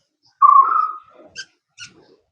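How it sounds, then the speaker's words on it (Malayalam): A dachshund mother dog gives one drawn-out whine close by, followed by a couple of short faint yips in an otherwise quiet room. "ഇതാണ് കേട്ടോ മദർ ഡോഗ്."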